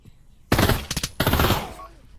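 Bursts of automatic gunfire from the Pavlov VR shooter game, two loud rapid volleys separated by a brief gap, close and dominant with no talking.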